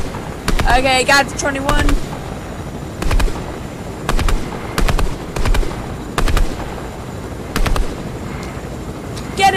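Gunfire in Fortnite comes as repeated short bursts of shots at a steady rhythm, loud and close, while a person talks over the shooting.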